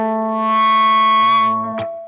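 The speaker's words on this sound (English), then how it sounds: "and it just creates feedback." Guitar feedback driven through an effects unit swells into a sustained, distorted tone with stacked harmonics, shifts pitch near the end, then cuts off with a brief burst and fades, played loud and alone.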